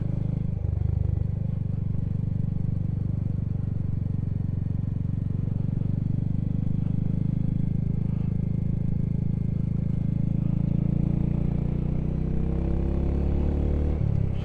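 A Royal Enfield Hunter 350 motorcycle fitted with a 16-tooth sprocket pulls steadily through its gears, a low, continuous engine rumble with rising pitch and wind noise, close and unbroken.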